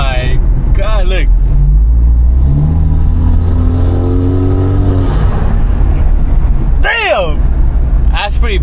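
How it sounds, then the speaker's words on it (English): A BMW G20 fitted with a CTS turbo intake revs hard, its loud, roaring intake and engine sound rising and falling in sweeping surges, with people shouting and talking over it. "that intake is so loud"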